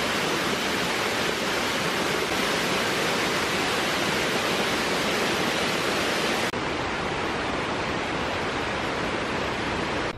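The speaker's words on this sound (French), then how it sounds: "ça normalement c'est la suite de l'escalier mais c'est devenu la cascade" A steady, loud rush of a waterfall in Laos roars continuously, broad and hissing, with no other sounds.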